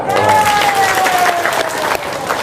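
An audience breaks into applause during a talk, a short burst of clapping with a sustained tonal sound and some voices mixed in underneath.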